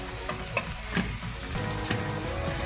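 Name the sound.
meat frying in its own fat in a pan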